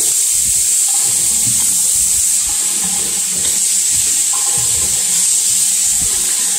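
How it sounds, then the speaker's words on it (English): Hot water pours from a sink tap in a shared washroom, a steady, close hissing rush that holds its level throughout, with faint clinks underneath. "first you run the hot water like this"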